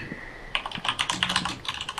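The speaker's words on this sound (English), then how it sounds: "if you hear an obscene amount of loud keyboard action" Loud typing on a new computer keyboard during a Minecraft livestream: a rapid, uneven clatter of keystrokes, close and prominent, with no talking.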